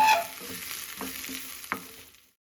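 Garlic, curry leaves, green chillies and sliced onion sizzle in hot oil in a pan, a soft steady frying hiss with a few light stirring clicks before the sound cuts off.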